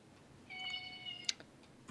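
A cat meows once in a drawn-out, tonal call partway through a quiet room, followed by a few faint clicks, with no speech.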